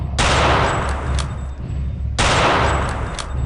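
Two loud rifle shots from Return to Castle Wolfenstein ring out about two seconds apart, each a sharp crack with a decaying tail, and no voices over them.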